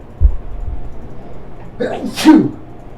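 One person lets out a single loud, close sneeze with a short sharp intake of breath before it, in an otherwise quiet room.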